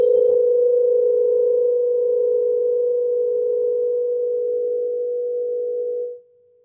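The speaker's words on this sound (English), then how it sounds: "You'll hear almost like a purring sound between these two." Two close, steady tones sound together, producing a soft wavering beat like a purr, holding for about six seconds before cutting off.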